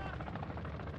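A helicopter in the shooter game Call of Duty Warzone DMZ thrums with a loud, close, steady rotor chop throughout a single brief moment.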